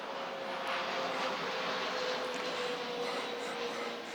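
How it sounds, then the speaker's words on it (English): An aeroplane flying overhead above a garden plot, producing a steady, broad engine roar that swells slightly and persists for the whole stretch, moderately loud and distant-sounding, with a faint voice in the background. "it's just the aeroplane noise"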